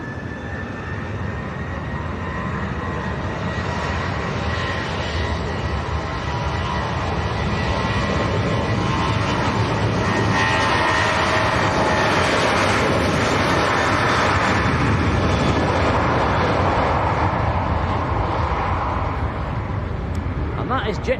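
A Jet2 Airbus A321neo jet taking off from Leeds Bradford Airport, a loud sustained engine roar that swells and holds steady throughout, heard from a distance outdoors.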